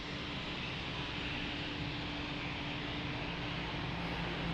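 Airliner lining up on runway 02 at Lisbon Airport, heard as a steady broadband engine roar with a low hum, constant and fairly distant, no voices.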